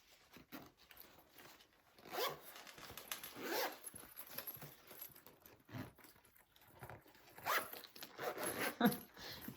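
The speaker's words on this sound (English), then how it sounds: "it should just zip closed" A zipper closing on the front pocket of a sewn game bag, heard as several short, fairly quiet zipping strokes spread across the stretch with pauses between, alone.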